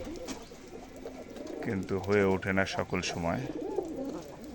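Pigeons coo in a loft kept for raising birds, their soft repeated calls running steadily beneath someone speaking.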